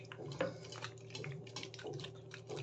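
Mushrooms are washed by hand in a basin of water, with soft splashing, sloshing and dripping close by at low volume.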